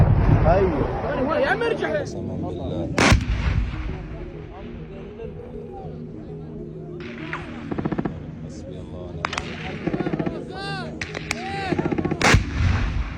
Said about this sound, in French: des tirs fusent